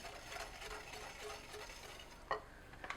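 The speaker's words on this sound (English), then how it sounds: "Mix the sugar in" Soft scraping as sugar is stirred into a chocolate olive oil cake batter in a bowl, quiet and close, with a few sharper clicks of the utensil near the end.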